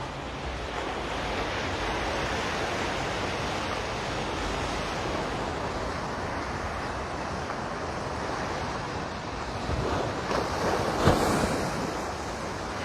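Ocean surf rolls steadily onto Waikiki Beach on Oahu, a loud, continuous wash of breaking waves with wind buffeting the microphone and a brief surge near the end.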